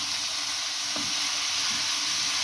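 Vegetables and peas frying in a pan for dinner, a steady, dense hiss of sizzling oil with a couple of faint stirring knocks, close and continuous.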